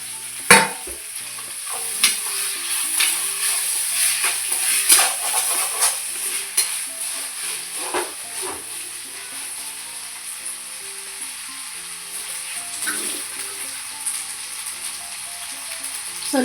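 Tomato frying with ginger garlic paste in a pan for country chicken curry, a steady sizzle under repeated scraping and stirring strokes with occasional utensil clinks throughout.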